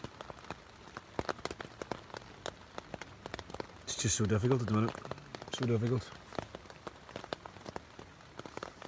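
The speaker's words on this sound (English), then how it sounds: "Go away, rain." Rain patters steadily on the Pacific Crest Trail in Washington, dense, irregular drops tapping a nearby surface, while a person speaks briefly in the middle.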